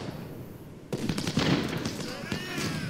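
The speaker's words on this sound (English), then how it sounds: "That's some beautiful shell shot." Artillery shells firing in Ultimate General: Civil War, a crackle of sharp distant bangs and pops breaking out after a quiet start, with a voice talking over the barrage.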